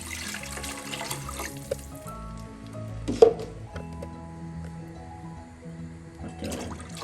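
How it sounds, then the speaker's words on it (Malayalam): Water poured from a glass into a cooking pot for jeerakashala (kaima) rice chicken biryani: a few soft splashing pours with small clinks, fairly quiet in a home kitchen. "5 ഗ്ലാസ് വെള്ളമാണ് ഒഴിക്കുന്നത്."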